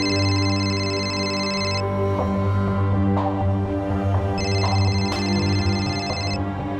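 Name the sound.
mobile phone ringing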